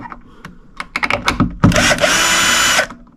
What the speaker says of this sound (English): I'm going to take out the middle hinge screw